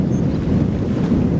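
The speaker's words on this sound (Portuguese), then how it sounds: "começou a ventania, tá vindo um chuvão ali que tá revirando" Strong gusty wind rising before a rainstorm at an outdoor tilapia feeding spot, roaring and buffeting the microphone in a loud, continuous rush with no voices.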